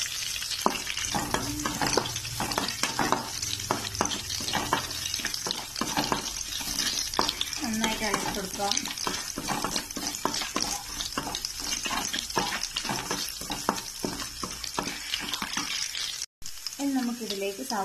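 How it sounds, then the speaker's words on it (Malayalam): Mustard seeds, dried red chilies, green chilies, garlic and curry leaves sizzle in hot oil for a Kerala tapioca stir-fry, a steady close crackle with repeated scrapes of stirring and a few clinks throughout. "കടുക് പൊട്ടി വന്നിട്ടുണ്ട്, അതിലേക്ക് വറ്റൻമുളക് ഇട്ട് കൊടുക്കാം"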